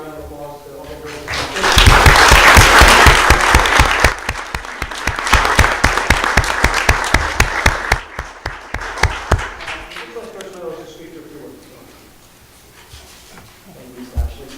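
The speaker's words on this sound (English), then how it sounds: "So I want to first just give a round of applause to all the girls." A room at a school committee meeting breaks into a round of applause that swells quickly, holds dense and loud for several seconds, then thins into scattered claps and fades, with a few voices around it.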